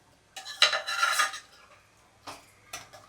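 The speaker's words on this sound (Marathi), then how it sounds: "आणि मस्तपैकी पुन्हा एकदा मिक्स करून घेतलेलं आहे." A spoon stirs a recipe in a pot after water has been added, making metallic scraping strokes in two or three bursts separated by quiet pauses, close by with no speech.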